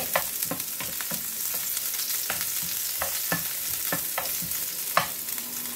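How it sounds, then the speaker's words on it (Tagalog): Onions sizzle in a hot pan, browning with a steady bright hiss broken by frequent short stirring clicks and scrapes throughout. "Mainit na yung ating kawali at pwede na nating ilagay yung ating sibuyas muna. I-brown lang natin siya ng"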